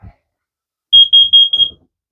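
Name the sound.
carbon monoxide alarm beeping in a 2008 Keystone VR1 RV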